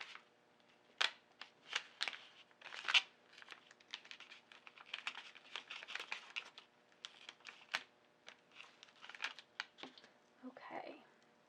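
Vinyl laptop decal cut on a Cricut is peeled from its backing at close range, giving a series of crisp crackling, ticking pulls in uneven bursts, with brief speech near the end.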